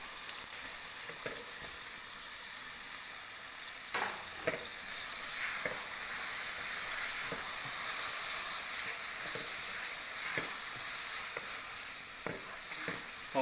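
Dal mash lentils fry in hot oil with masala, giving a constant close hissing sizzle broken by scattered light clicks of a spoon stirring the pan.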